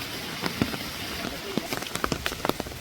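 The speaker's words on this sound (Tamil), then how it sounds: "ரொம்ப மழை பெய்யுது, குடை தந்துருக்காங்க எங்களுக்கு." Heavy rain falls outdoors in Jaffna, a steady wash of patter with scattered sharper drops striking nearby surfaces.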